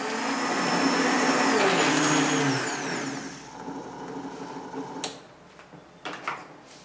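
A high-powered Vitamix blender whirs loudly while making a raw superfood smoothie, its pitch sliding down as it slows, then spins down to quieter rattles and clunks.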